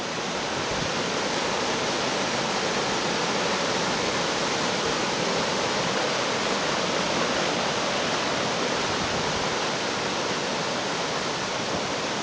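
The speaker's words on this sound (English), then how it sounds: "But I will never tire of running water." Oxford Falls waterfall and its cascades in Sydney, a steady roaring rush of running water that stays loud and unbroken throughout, with no other sounds cutting through.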